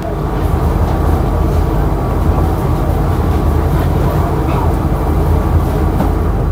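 A KA Mutiara Timur New Generation economy-class passenger train at a station gives off a continuous low rumble, with a steady, dense mechanical hum and no clear voices.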